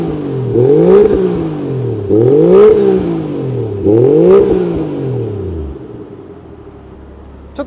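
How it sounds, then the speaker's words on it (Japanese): Three sharp revs of a Toyota Cresta JZX100's 1JZ-GET engine blare through its muffler, each climbing fast and falling back to a rumbling idle, loud and close, with no talk. "じゃあちょっとマフラー吹かしてみましょうか。"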